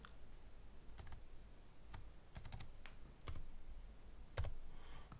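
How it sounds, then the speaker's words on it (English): Clicky keys tapped on a computer keyboard while entering a value in Inventor CAD software, in a few short bursts and isolated presses against a quiet room hum, with one louder key strike near the end. "So let's type in 16."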